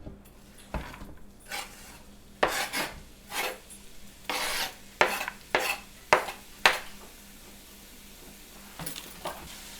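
Garlic, hot cherry peppers and onion being worked in a frying pan, heard as a series of rough scraping strokes of a utensil across the pan, irregular and fairly close, over a low steady hum.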